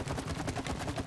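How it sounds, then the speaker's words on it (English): A brief explosion in the video game It Takes Two during a boss fight, with a dense, rapid crackling burst that stays loud for about a second. "that explosion is next level"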